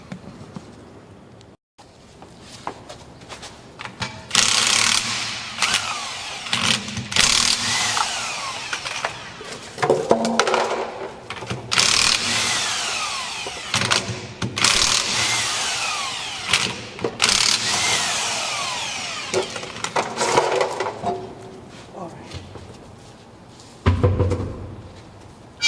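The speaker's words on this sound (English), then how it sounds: "power tools." Power tools run during a rear brake repair on a 2009 Toyota RAV4, with several loud bursts of whirring and grinding separated by short quiet gaps and clanks, close by and without talk.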